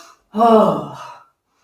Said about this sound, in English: If it helps to take a breath out as you drop the arms, you can inhale.